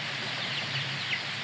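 Young Lohmann egg-laying chicks give faint, scattered peeps and soft clucks over a steady airy hiss in an open, well-ventilated poultry house.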